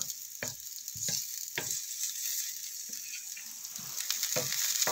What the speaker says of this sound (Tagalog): Likos-mikos tayo saute sa ating mga sahog na may aroma.